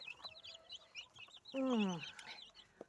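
Young chicks cheep and peep steadily while a hen gives a short, low cluck, all close and fairly quiet.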